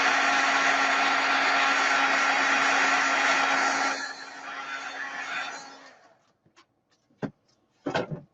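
A heat tool blowing to dry stamped ink on a card runs as a loud steady whirring rush for about four seconds, then winds down and cuts off, followed by a few sharp clicks and knocks.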